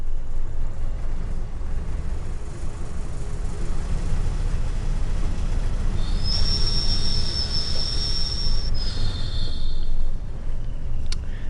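BR Class 20 diesel locomotive rolling along the Tees Valley Line in Train Sim World 5, a steady low rumble of wheels and engine with a thin, high squeal rising for a couple of seconds near the end.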